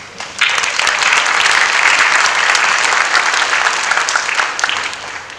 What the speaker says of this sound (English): they need another round of applause.